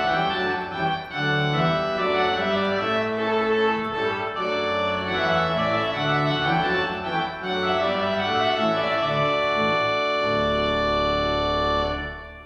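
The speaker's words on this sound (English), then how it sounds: "if we put the tuba and the bombarde together, we can get something that sounds like this" A church pipe organ plays with the tuba and bombarde stops drawn together, a loud, full, sustained chord sequence with rich brassy reed tone throughout, alone with no talk.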